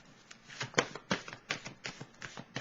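Tarot cards are shuffled and drawn in a quiet room, making a rhythmic run of soft, papery flicks and taps, close and alone.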